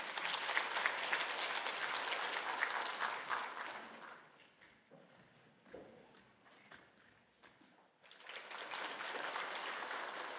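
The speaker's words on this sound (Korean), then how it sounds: "박수로 한번 축복해 주십시오." Church congregation applauding during a Sunday service in Korea, a broad clapping burst that fades into quieter shuffling midway, then swells back up to full applause at the end.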